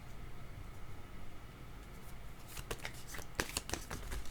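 Tarot cards are shuffled by hand over steady background hiss, a quick burst of riffling flutters and snaps arriving halfway through, close and crisp.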